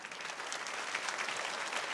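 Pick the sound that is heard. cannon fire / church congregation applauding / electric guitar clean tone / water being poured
church congregation applauding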